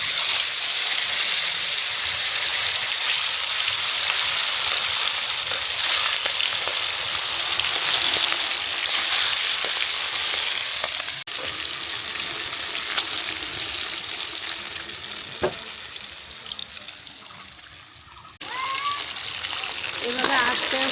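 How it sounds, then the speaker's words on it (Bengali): Pangash fish pieces fry in hot oil with a loud, continuous sizzle and crackle that swells and dips as the pieces are turned, with a few clinks and a sharp knock partway through. "এভাবে আস্তে আস্তে মাছগুলো উল্টিয়ে ভালোভাবে ভেজে নিতে হবে"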